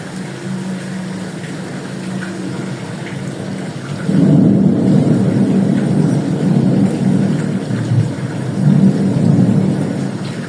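Heavy rain pours steadily in Faisalabad while deep thunder rolls in, swelling into loud rumbling surges partway through and again near the end.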